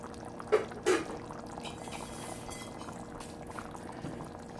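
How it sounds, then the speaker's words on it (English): Healthy chili with beans simmers in a covered pot with soft bubbling and gurgling, quiet and close, after two brief louder clunks near the start as the lid goes on. "So we're just gonna cover it and let it simmer on low"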